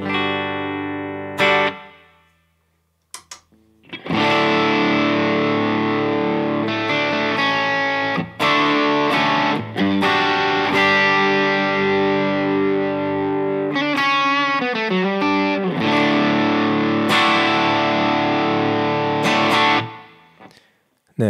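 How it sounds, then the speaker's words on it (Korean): Electric guitar through an Apollo Approved Sawdust pedal on a clean tone, playing loud, sustained chords and single notes with a fat, compressed sound and brief pauses between phrases, alone with no talking. "일단은 소더스트부터 한번 들어볼게요"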